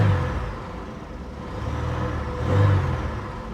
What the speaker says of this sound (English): Let's give her a little rev.